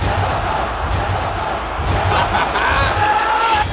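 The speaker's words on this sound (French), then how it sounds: "As-tu entendu la foule?" A large arena crowd roars in a dense, continuous wash of noise from the film Gladiator 2, with no break throughout.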